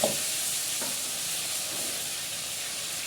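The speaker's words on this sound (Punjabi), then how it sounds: "ਇੱਧਰ ਹੋ ਗਿਆ ਸਾਡਾ ਤੇਲ ਗਰਮ ਹੁਣ ਆਪਾਂ ਇਹ ਮਸਾਲਾ ਜਿਹੜਾ ਆਪਾਂ ਬਣਾਇਆ ਨਾ ਇਹ ਪਾ ਲਾਂਗੇ" Homemade spice masala hits hot oil in a pan while stuffed eggplant is being made, giving a loud, steady, close sizzle that runs the whole time after a brief clatter at the start; nobody talks.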